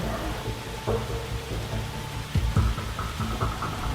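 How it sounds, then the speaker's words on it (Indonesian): Heavy rain pours down steadily in a flood-prone area, a dense, continuous roar with scattered louder splashes and drips close by. "Mana hujannya masih deras banget"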